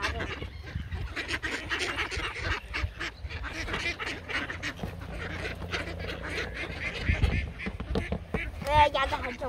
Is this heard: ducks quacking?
yes